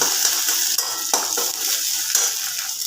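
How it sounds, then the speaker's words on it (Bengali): Egg being stirred and fried in a pan while making a lentil and egg dish: a steady sizzle with occasional scrapes and clinks of a utensil against the pan, close and continuous, no talking. "ডিমটাকে নাড়াচাড়া করে আমি একটু ভাজা ভাজা করে নেব"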